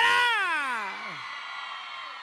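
Drawn-out falling scream from a woman in the crowd at a live banda concert in Santa Cruz Meyehualco, loud and piercing at first, sliding down in pitch, then fading into crowd noise.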